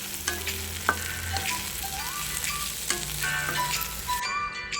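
Ivy gourd and egg sizzle steadily in a pan as they are stir-fried, with occasional spatula scrapes and taps over the constant frying hiss. Close and fairly quiet, with no talking.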